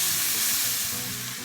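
Soy and tomato sauce filling cooks in a pan over medium heat, giving a close, steady hiss and sizzle that fades slightly toward the end.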